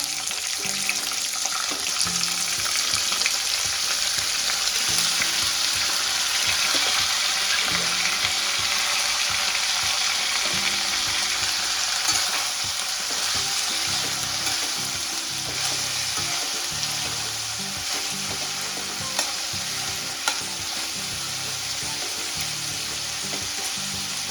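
Papdi (val) bean pods fry with roasted garlic in a pan, giving a continuous bright hiss and crackle that holds steady and fairly loud with no talking.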